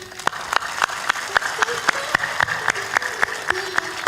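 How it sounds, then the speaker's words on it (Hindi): A devotional gathering's audience claps steadily in even, rhythmic unison, loud and close, with sharp regular beats and a low voice faintly underneath. "ताली जोर बजाया करो।"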